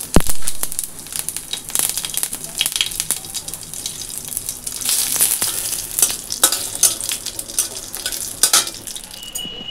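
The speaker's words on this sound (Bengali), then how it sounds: "তো ফোড়ন দেবো ওই যে" Whole spices tempered in hot oil in a home kitchen pan, sizzling loudly with sharp crackles and popping bursts over a steady hiss, close and continuous.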